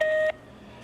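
A single short electronic voicemail tone heard over a speakerphone, a clear steady beep lasting about a third of a second before cutting to quiet line hiss.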